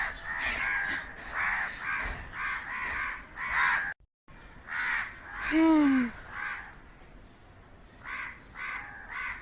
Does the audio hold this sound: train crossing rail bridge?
no